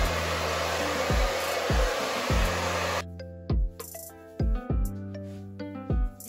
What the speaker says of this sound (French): Sécher mes cheveux